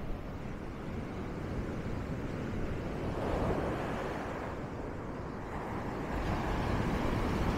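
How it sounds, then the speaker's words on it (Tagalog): Strong ocean waves at a beach roll in as a continuous low roar with wind buffeting the microphone, swelling slightly midway and again toward the end. "Ang lakas ng alon, sobrang lakas."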